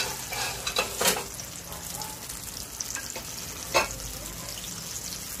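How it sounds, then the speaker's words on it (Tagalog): Sliced eggplant fries in a pan with a steady hiss and crackle, with occasional louder pops and clatter of cookware close by, continuous throughout. "kitang-kita nyo naman ng pagkakakulo ng ating pritong talong"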